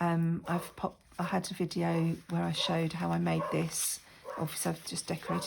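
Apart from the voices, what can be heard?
No everyday noise stands out behind the speech.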